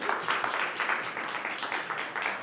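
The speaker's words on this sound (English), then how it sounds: "one more round of applause for Teresa" An audience at a Body Language Show claps in steady, dense applause that fills the whole stretch at moderate loudness, with no voices standing out.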